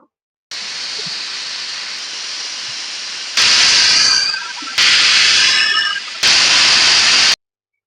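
A pressure cooker with mutton curry inside lets off steam in a loud, steady hiss that gets stronger in three separate whistle bursts, each ending abruptly, with no talking.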